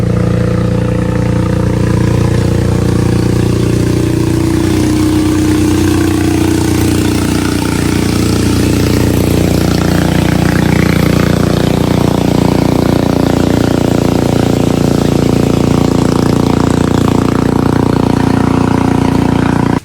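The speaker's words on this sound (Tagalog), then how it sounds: "Ay dadaan pong bangkang di motor." A motorized boat engine on a river drones steadily and loudly throughout, a close, continuous low hum with a slight rise in intensity toward the middle and no talking.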